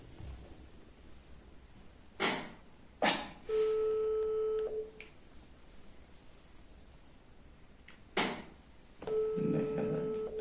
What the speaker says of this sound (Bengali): একে ফোন দিচ্ছি, নিজে এখন জানে না।